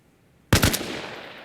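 A single rifle shot fired in the ARMA Reforger video game cracks loud and close, then leaves a short fading tail, with nothing else around it.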